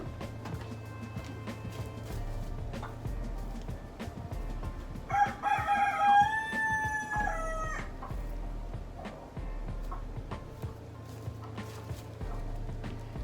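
A hen in a chicken coop gives a short burst of clucking and crowing-like calls in the middle, close and moderately loud over a low steady background hum.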